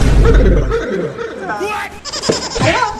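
A goat bleats in a rural village setting, several short wavering cries close by, mixed with people talking and laughing.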